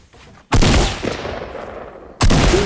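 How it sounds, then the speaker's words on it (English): Loud, close gunfire in the Fortnite battle royale Blitz mode: a sustained burst of rapid shots lasting nearly two seconds, then a fresh blast starts after a brief break, with no talk. "somebody's shooting out of one of the buildings"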